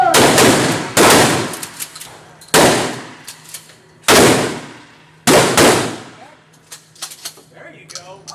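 ZN5 rifle fired at an outdoor shooting range: four loud, sharp single shots spaced roughly 1.5 seconds apart, each followed by a brief echo and metallic clatter, with a few lighter clicks after the last shot.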